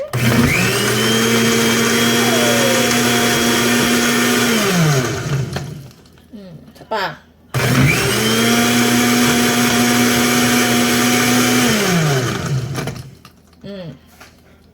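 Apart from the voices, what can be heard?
blender running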